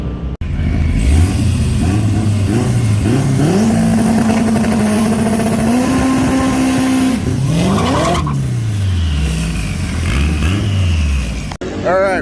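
A drag race car launches hard and accelerates, its engine howling upward through rising gear pulls over several seconds, loud and close, while people talk over it.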